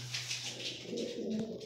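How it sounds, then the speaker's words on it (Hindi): Pigeons coo indoors in a room where they are kept, a close, soft, throaty burbling that rolls on continuously for a couple of seconds. "तो यार अभी जल्दी से मैं निकाल देता हूँ कबूतरों को बाहर"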